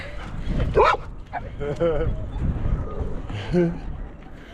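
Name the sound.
dogs barking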